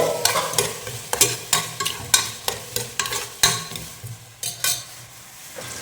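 Potatoes fry in a pan as a spatula stirs and scrapes in quick, repeated strokes, each stroke a sharp clatter over a soft sizzle, close and without talk.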